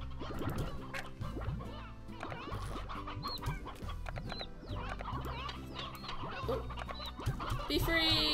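A flock of chickens in the video game Slime Rancher clucks continuously and busily, many overlapping cackles close by, with a louder squawk near the end.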